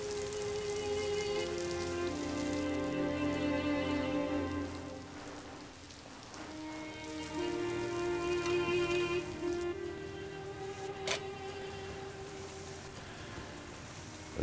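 Steady rain falls, a continuous dense hiss of drops on surfaces in a dramatic TV scene, with music playing throughout and no talking.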